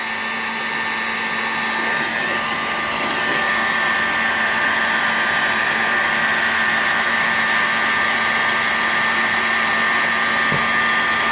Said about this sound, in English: I just don't want to be pointing this heat gun at something that's not friendly to heat.